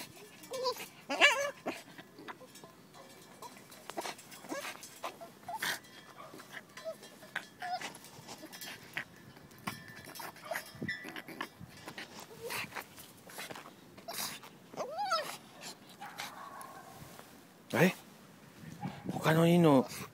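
A pet dog playing at boxing practice with its owner, giving scattered short yelps, whimpers and bark-like bursts close by amid rustling, thumps and footsteps, with a louder cluster near the end.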